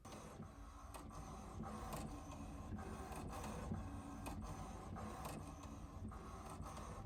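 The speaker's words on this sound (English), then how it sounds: "I'm going to go ahead and click print" An inkjet printer runs a print job on holographic printable sticker vinyl, a steady mechanical whirr with repeated rhythmic carriage passes and clicks, close and continuous throughout.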